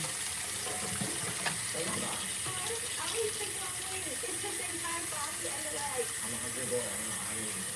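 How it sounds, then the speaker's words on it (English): Water runs steadily from a faucet into a sink while dishes are washed, a continuous close splashing flow with faint clinks and a voice talking over it. "Gotta let it soak in the hot water and then I rinse it."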